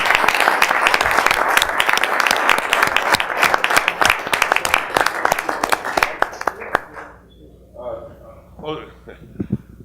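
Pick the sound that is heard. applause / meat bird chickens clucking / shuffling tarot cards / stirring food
applause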